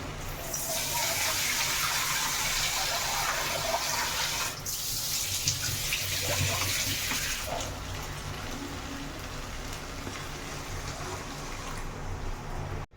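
Water streams steadily into a cooking pan for Odisha-style poi rai, a broad continuous pour that keeps going close by for most of the stretch, with a brief break partway through and no talk.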